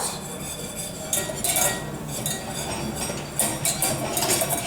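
Flour toasting in a pan for lasagna, heard as steady scraping and stirring with metallic clinks of a utensil against the pan, fairly close and continuous.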